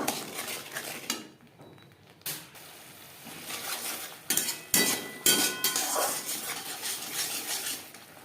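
A spoon scrapes and clinks against a pan while ground spices, salt and turmeric are stirred into fried masala for cabbage paneer, with irregular metallic knocks and scraping sounds that rise and fall close up.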